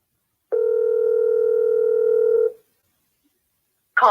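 A telephone call on a phone line gives a steady electronic tone lasting about two seconds, loud and clean, followed by silence and then the start of a voice.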